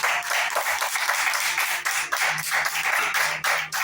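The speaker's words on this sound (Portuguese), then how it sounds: "palmas para Jesus" A church congregation claps together in praise of Jesus after a short sermon, a dense, steady patter of many hands sustained throughout at close range, with faint low tones from a voice or instrument underneath.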